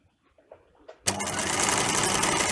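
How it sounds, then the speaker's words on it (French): A sewing machine stitches a neckband onto an overgown, starting abruptly after a second of faint handling noise and then running in a steady, loud, fast whir to the end. "Faites confiance à votre machine, normalement les griffes sont faites pour entraîner le tissu"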